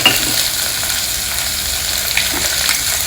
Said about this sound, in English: add in the chopped onions to this